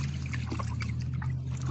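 Water trickles and dribbles over a freshly dug clam being rinsed outdoors beside a dog, a steady close pour running for under two seconds.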